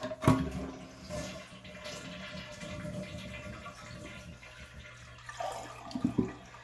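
A toilet flushes nearby to drain its tank during a flush seal gasket replacement, a gurgling rush of draining water that keeps swirling, then a few clunks and splashes near the end.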